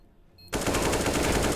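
A sudden loud burst of rapid automatic gunfire in a Counter-Strike-style competitive match, firing through a box, starting abruptly after near silence and continuing steadily to the end.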